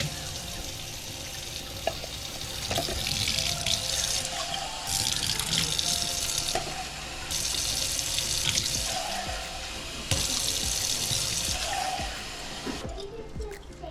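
Warm water runs steadily from a tap in bursts, gushing loudly, stopping briefly and starting again several times, with faint clinks in the background.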